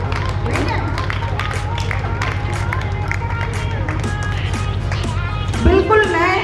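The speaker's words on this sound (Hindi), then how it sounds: "ताली बजाओ।" Audience clapping at a school annual day celebration, a dense patter of many hands under a steady low hum, with crowd murmur and some children's voices mixed in and a louder burst near the end.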